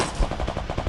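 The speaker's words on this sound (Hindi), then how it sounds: "ये भाई साहब बहुत ज़ोर से गोलियां चला रहे हैं" Automatic gunfire in the video game Free Fire, from a Groza or MP40, sounds as a rapid, loud burst of close shots fired in quick succession.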